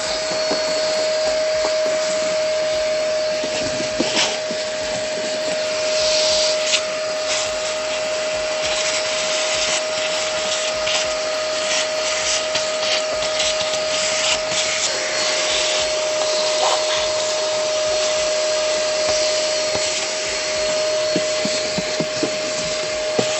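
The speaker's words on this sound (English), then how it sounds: "let me use a vacuum cleaner, get rid of all the leaves and everything else in here so that I can start washing" A vacuum cleaner runs steadily, sucking leaves and debris out of an Audi S4 engine bay, with a loud continuous whine and airy roar that holds close and even throughout, with occasional rattles and knocks as debris is pulled in.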